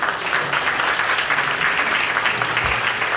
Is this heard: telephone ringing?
no